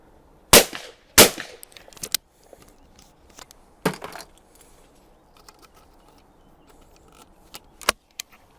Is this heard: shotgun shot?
yes